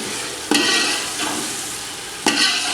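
Tomatoes and green chillies stirred into a pan of garlic and ginger, frying steadily with a constant sizzle and two sharp scraping stirs of the spoon, close and loud, with no talking.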